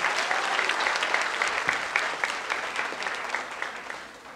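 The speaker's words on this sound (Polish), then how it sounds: "Jeszcze raz gorące brawa!" A dance show audience gives warm applause to a dancer and her trainer, a full, steady round of clapping that tapers slightly as it goes on.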